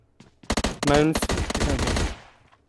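Rapid automatic gunfire in the mobile battle-royale game PUBG Mobile, loud bursts of closely spaced shots lasting about two seconds, with a few lead-in shots, heard alone with no talk.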